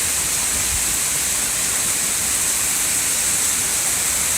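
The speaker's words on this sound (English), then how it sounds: "It's pouring!" Pouring rain driven by Hurricane Sandy's wind makes a loud, constant rushing hiss close by, steady and without a break.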